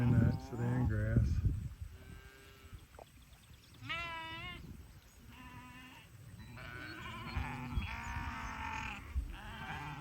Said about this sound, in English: Some of those sheep haven't paired up yet with their young.